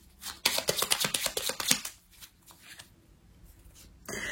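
Playing cards being shuffled at close range, a fast burst of riffling flutters for about a second and a half, then quieter rustling and handling, ending with a brief final riffle.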